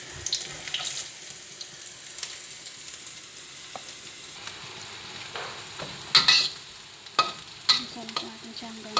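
Onion and garlic sautéing in hot oil for a chicken curry puff filling, a soft steady sizzle with scattered clinks and scrapes of a stirring spoon against the pan, no voices.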